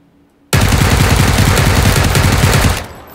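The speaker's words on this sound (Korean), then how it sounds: "쬐기인데 총소리 너무 큰데" Loud, rapid automatic gunfire from a video game, a continuous burst of dense, crackling shots lasting nearly three seconds after brief quiet, then cutting off.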